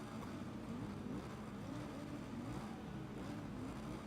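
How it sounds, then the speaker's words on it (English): Motorbikes revving in the SBK 22 racing game, a continuous blurred engine drone with rising and falling pitch, steady and fairly loud throughout, no talk. "I can hear bikes revving"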